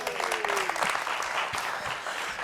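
Audience applause following a juggling trick at a circus show, a dense steady wash of clapping from a sizable crowd that stays loud and even throughout.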